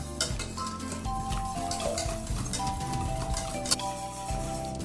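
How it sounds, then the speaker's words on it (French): Lemon juice being mixed into a lemon tart filling, steady whisking and utensil scraping in a bowl under a backdrop of soft music, with a few sharper clinks standing out. "Et je vais carrément directement verser le jus dans la préparation, comme ceci. Je vais de nouveau mélanger."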